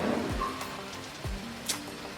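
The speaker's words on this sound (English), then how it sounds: "The rain going on, but it's okay, we don't mind." Rain falling at an off-grid home in Los Angeles, a soft steady wash of drops under faint background noise, with a couple of low passing thuds and a brief hiss, no talking.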